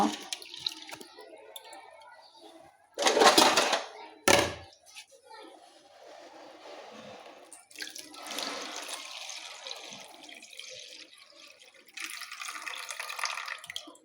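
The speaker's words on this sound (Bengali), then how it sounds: "ডালগুলো ধুয়ে নিতেছি ভালো করে পরিষ্কার করে ধুয়ে নিব" Lentils being washed by hand in water, with intermittent swishing and splashing, a couple of sharp pouring bursts and a thunk, fairly close, with quiet stretches between the water sounds.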